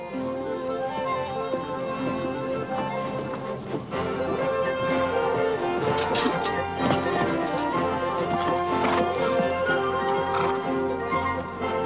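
Horse hooves clip-clop steadily through a dense, busy mix with music and other noise layered over them; the rhythmic footfalls run the whole stretch and are not clearly isolated, with a possible voice faintly present.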